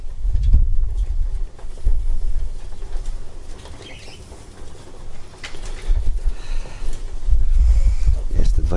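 Racing pigeons arrive at their loft after a competition flight, with bursts of close wing flapping and low thumping landings coming in uneven waves.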